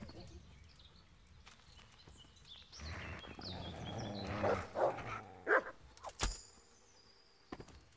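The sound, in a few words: dogs barking in the Kingdom Come Deliverance video game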